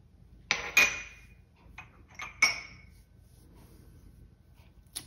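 A spoon or whisk stirs almond flour and baking powder in a bowl, giving a few sharp scattered clinks and scrapes against the side, close and sparse over near silence.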